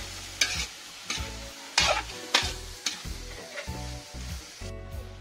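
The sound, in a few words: meat sizzling while stir-frying in oil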